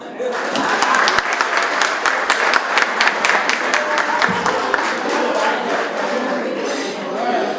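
Dense applause fills a banquet hall at an awards gala, many hands clapping steadily throughout while voices chatter and dishes and cutlery clink in the background.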